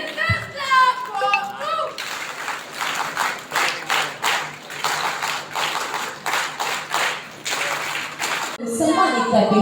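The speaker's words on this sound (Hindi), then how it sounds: "जोरदार तालियां होनी चाहिए।" Audience clapping at an award ceremony honouring election officials, a rhythmic burst of applause between stretches of talk at the start and end.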